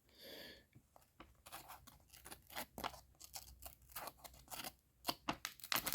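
A factory-sharp Buck 835 Mini Selkirk knife blade slices through wet paper, a series of quick, crisp rasping cuts up close in an irregular rhythm, quiet and alone.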